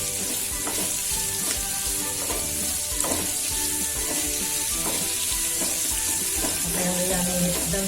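Slit okra (bhinda) fries in hot oil for a dry okra-potato dish, giving a steady, close, dense sizzle that crackles on without a break and carries a few faint clinks of stirring.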